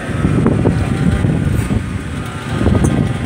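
Gusty wind buffets the microphone at an outdoor vintage kart track on a hot day, a loud, continuous rumbling roar with uneven surges and no clear voices.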